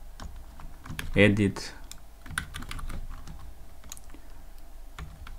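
Code is typed on a computer keyboard in a sequence of quick, close key clicks with irregular rhythm, while a voice briefly speaks over them.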